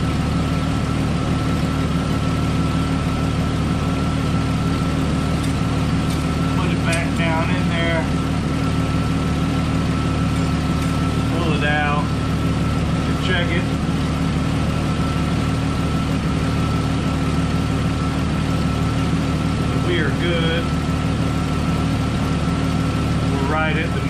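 A warmed-up 4.0 engine in a 1998 Jeep Cherokee XJ idles steadily with a low, even hum throughout, while a person talks intermittently over it.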